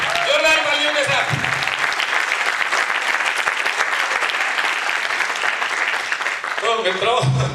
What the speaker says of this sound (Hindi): अभिनंदन जोरदार तालियों के साथ